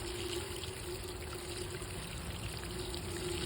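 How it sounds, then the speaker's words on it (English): Cooled water poured onto a potted hibiscus, trickling and splashing in a steady, continuous wash up close with no pauses. "I usually water the hibiscus until I see it coming out the bottom"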